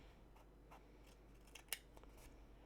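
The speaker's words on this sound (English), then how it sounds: "And then we just snip it off." Tiny scissors snip paper in a quiet room: a few soft cuts, then one sharp, close snip stands out, followed by faint clicks.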